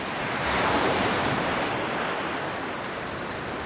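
Ocean waves break on a shore in Canada, making a steady, full roar of surf and wash that swells slightly, then holds, with no voices.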